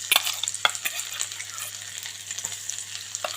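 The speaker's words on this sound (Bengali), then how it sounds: "এখন এই গরম তেলের মধ্যে আমি দিয়ে দিচ্ছি 1 টেবিল চামচ আদা কুচি" A tablespoon of chopped ginger frying in hot oil while cooking fried rice and chili chicken, bright crackling sizzle with sharp spits and pops at the start, settling into a steady hiss, no voices.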